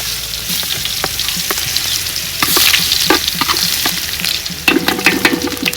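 Cumin seeds and garlic crackle and sizzle in hot oil as a tempering for tempered rotlo: a steady, close hiss with sharp spatula clinks and scrapes, rising briefly louder near the end.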